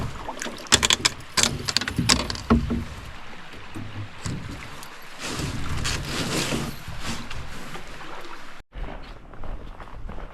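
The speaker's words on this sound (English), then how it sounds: "We're gonna line wade and run the rest of these rapids to the end of the portage." A canoe being run through river rapids, with rushing whitewater churning steadily and sharp knocks and splashes against the hull early on, the turbulent noise surging and then cutting off abruptly near the end.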